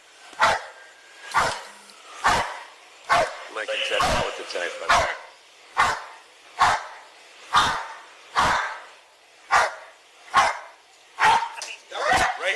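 A police dog barks repeatedly during an arrest, loud sharp barks at a regular pace, about one each second, close by, while officers shout commands over them.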